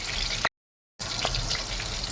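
Green chillies sizzle and fry in a pan for tempering, a steady close hiss broken by a short total dropout midway, with no talk.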